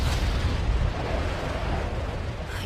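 An anime explosion destroys a castle in a sustained, loud, rumbling roar with deep low-end weight that rolls on steadily without a break.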